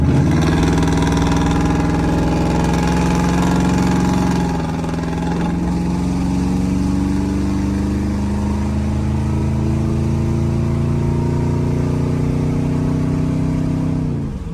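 A Kia K5 car engine running while driving, a steady close hum with rising and falling tones as it pulls along, continuous and alone with no talk.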